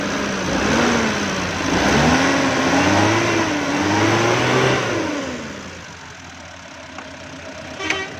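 A Mitsubishi Mini Pajero engine revs up and down in rising and falling swells during an idle adjustment, then settles toward a steadier, lower idle near the end; close and loud, no talking.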